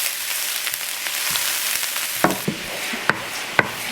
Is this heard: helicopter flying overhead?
no